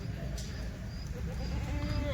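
A pregnant Kathiawari goat bleats close by with a wavering, drawn-out call over a busy low background hum.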